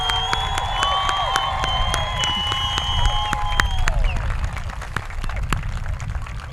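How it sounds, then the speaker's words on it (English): Graduation crowd applause rolls on steadily, with clapping, cheering and shouts from an audience, and whistles or voices mixed through the noise. "Let's give another round of applause for the class of"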